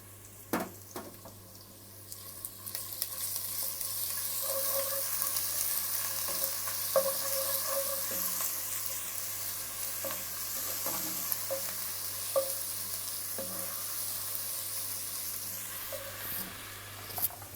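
Browned onions with garlic ginger paste sizzle steadily in hot oil for a rice pulao, a constant crackling hiss with occasional clinks and scrapes of stirring, close up and without talk.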